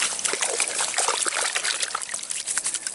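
Running water rinsing a freshly cleaned grayling fish, a steady close trickle and splatter of water pouring over the fish without pause and with no talk.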